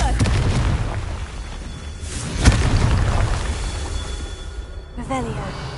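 Confringo spell blasts in Hogwarts Legacy, a few booming magical explosions with one sharp burst near the middle, loud and close over rumbling game ambience, with a voice speaking in between.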